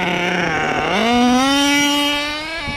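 A nitro-powered HPI Savage XL K5.9 RC truck engine buzzes loudly and steadily near at hand, its pitch climbing then dropping and leveling as the transmission shifts gears early, the whine continuing alone.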